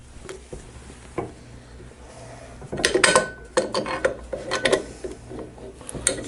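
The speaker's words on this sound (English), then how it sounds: "all we're going to do is tighten this tool down, and it'll take the bearing all the way down." A bearing press tool is tightened down to seat a bearing in Harley-Davidson Evo engine flywheel cases, making close, irregular metallic ratcheting clicks and clanks that cluster and grow louder midway through.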